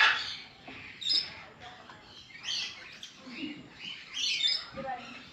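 Birds calling and chirping loudly inside an aviary enclosure at Fundera Park in Yelagiri, with repeated bursts of squawks and tweets close by over a busy chattering background.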